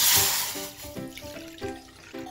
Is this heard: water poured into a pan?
yes